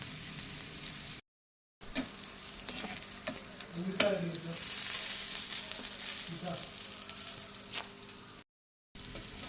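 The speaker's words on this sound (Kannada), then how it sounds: "ಈಗ ಮೀಡಿಯಂ ಫ್ಲೇಮಲ್ಲಿ ನಿಧಾನಕ್ಕೆ ಫ್ರೈ ಮಾಡಿ" Fish sizzling and frying on a tawa over a medium flame, a steady crackle with a few scraping stirs of a spatula, close and moderately loud with brief gaps of silence.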